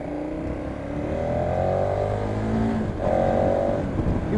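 Engine of a 2015 KTM 1290 Super Adventure motorcycle ridden in town, a loud steady drone whose pitch climbs and dips twice as the throttle opens and eases, heard close with no talking.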